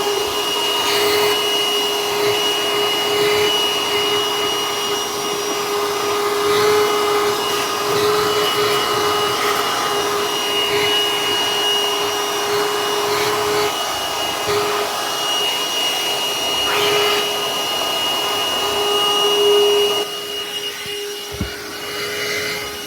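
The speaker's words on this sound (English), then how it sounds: "So we're great for vacuuming off the wood underneath the pads." Hercules cordless vacuum cleaner runs steadily close by while vacuuming wood inside a teardrop trailer, a loud constant whine with a brief dip and bump near the end, no talking.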